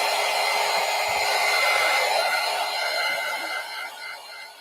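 A hair dryer blows steadily on the backs of coloring pages, a loud continuous whooshing whine that holds for several seconds and then eases slightly toward the end.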